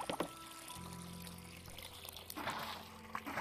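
Water pours and splashes in a video game as a character washes up, a steady liquid trickle with a low hum beneath and a louder burst of splashing near the end.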